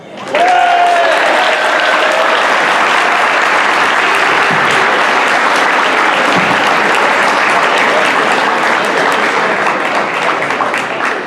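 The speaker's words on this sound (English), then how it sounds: "round of applause for Jacob and the rest of our students of the month" A school assembly audience gives a loud, sustained round of applause for the student of the month, dense clapping filling the hall steadily throughout with no one speaking over it.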